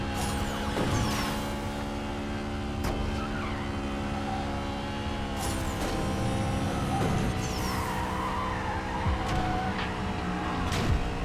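A BMW M3 GTR with a V8 engine drones steadily in Need For Speed No Limits, holding a continuous engine tone with occasional brief tire squeals and skids layered over it.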